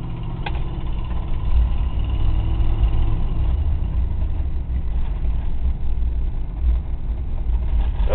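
A 1963 Oldsmobile car engine runs steadily with a low, rumbling idle, loud and close, holding an even drone throughout with no talking.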